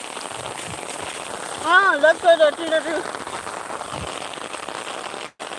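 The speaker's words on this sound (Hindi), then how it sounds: "ये बारिश के पानी।" Steady rain falls in a village by a river, a constant close hiss. A voice speaks briefly partway through.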